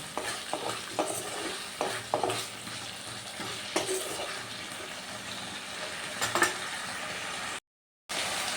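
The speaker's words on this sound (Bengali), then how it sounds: "আবারও আমি ভালো করে মশলার সাথে আলুগুলো কষিয়ে নিচ্ছি" Potatoes being stir-fried with spices in a pan, a steady sizzle with repeated scraping strokes of a spatula, close and fairly loud, with a brief dropout near the end.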